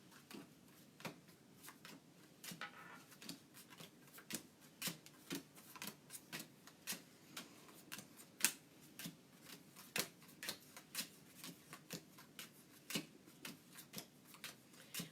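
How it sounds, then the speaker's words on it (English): Bridge playing cards being dealt out one by one, a steady run of soft, crisp snaps and flicks close by, repeating at a quick, fairly even rhythm throughout, with no voices. "put that person to be the dealer, the person who distributes the cards"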